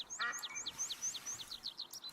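Teal ducks calling in theHunter Call of the Wild, a rapid series of high, short chirping whistles repeating about every quarter second through the clip, fairly close and clear with no talk.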